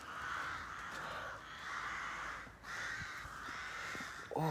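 A murder of crows caws continuously overhead in cold outdoor air near bamboo and Scotch fir, harsh calls overlapping in long loud bursts with brief lulls.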